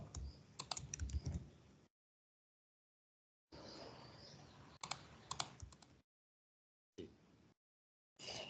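Quiet bursts of typing on a computer keyboard while entering an SQL query, with soft clustered key clicks separated by silent pauses.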